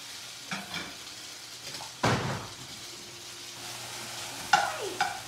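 A large U15-U20 scallop is flipped in a hot pan over medium-high heat, a soft background sizzle punctuated by a sharp clatter and a couple of brief clinks.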